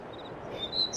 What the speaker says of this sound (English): the one thing that I really like about this is that bird sound,